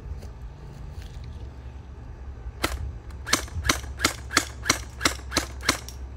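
Toy gel blaster fired at a target, one sharp crack followed by a rapid, even run of about nine snapping shots, close and loud over a quiet background.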